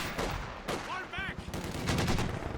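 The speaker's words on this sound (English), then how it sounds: "Now we've got this MG42 seemingly destroying this van." MG42 machine gun firing in a WWII strategy game battle between Soviets and Wehrmacht: rapid, dense bursts of gunfire and battle noise, with a brief voice mixed in.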